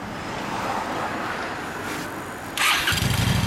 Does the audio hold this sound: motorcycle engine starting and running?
yes